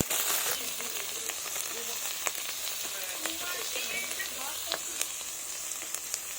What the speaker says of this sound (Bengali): এবার এটাকে ভালোভাবে কষিয়ে নেব